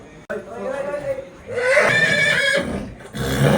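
A horse whinnies during a night ride, giving shrill, wavering neighs amid close, busy sounds, with people talking around it.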